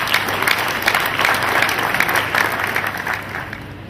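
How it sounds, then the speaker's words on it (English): A crowd applauds steadily, dense clapping sustained throughout at a fairly loud, even level. "Please make a round of applause."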